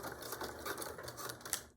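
A sewing machine running a short back tack over a bulky zipper seam, a quick rapid stitching patter lasting under two seconds with no talking.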